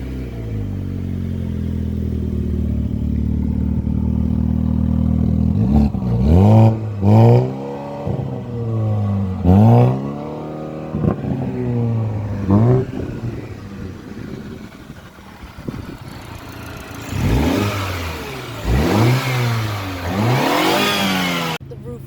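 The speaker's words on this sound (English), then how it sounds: "I'm going to start the engine so you can hear how the car sounds" A 2020 Mini Cooper S convertible's engine starts and idles, then revs repeatedly in loud, close bursts that rise and fall, with a quicker cluster of revs near the end; no talking.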